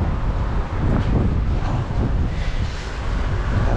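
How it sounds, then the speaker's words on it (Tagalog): Strong outdoor wind buffets the microphone in a continuous loud rush with gusty swells and low rumble, no voices over it. "mahangin, malamig yung hangin niya."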